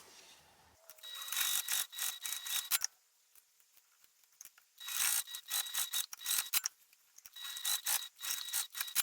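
A sewing machine top stitches the side pieces of a fabric card pouch, running in three quick rattling bursts separated by pauses, close and fairly loud.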